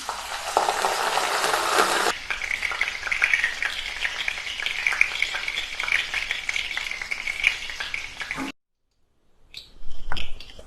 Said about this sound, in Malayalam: അതായത് കുറച്ച് കറിവേപ്പില നമ്മൾ ആദ്യമേ വറുത്ത് കോരുകയാണ്.